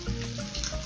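Chopped onion sizzles steadily in hot vegetable oil for fried rice, a close, continuous frying hiss with no speech.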